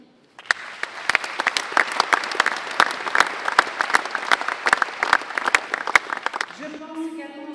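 An audience claps at the inauguration of a large event hall in Quimper, France, in dense, sustained applause with sharp individual claps standing out, fading near the end as a voice begins speaking.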